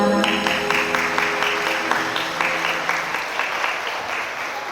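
Wedding guests in a Gwangju wedding hall applaud during the candle-lighting by the groom's parents, with brisk, many-handed clapping over soft background music that gradually thins and fades.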